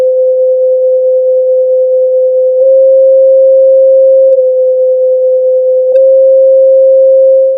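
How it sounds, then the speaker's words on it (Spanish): A pure sustained sine-like note plays as a just-intonation minor seventh, steady and loud, with slight clicks where the pitch is retuned a few times before it fades. "y escuchémosla como séptima menor."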